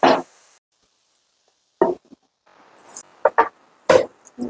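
Spinach thoran stirred in a pan, heard as a few short, separate scraping and rustling strokes against the pan with near-silent gaps between them, close by and without any voices.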